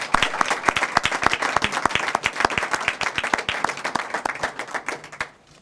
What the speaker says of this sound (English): So I would like to give them a round of applause to start off with.